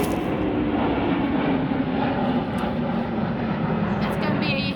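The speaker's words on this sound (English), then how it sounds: "It's gonna be a lot of planes today" Airplane engine droning overhead outdoors near an airport, a steady loud broadband roar filling the whole clip with no pauses.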